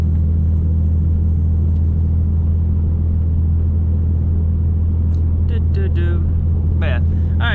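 A 2015 Ford Mustang drives along a road, giving a steady, loud low rumble from the cabin that holds throughout, with a few brief higher chirps near the end.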